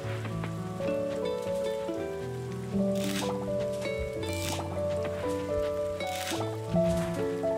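Rain patters steadily in the farming game Coral Island, a soft wet hiss with brief swells, layered under gentle melodic background music.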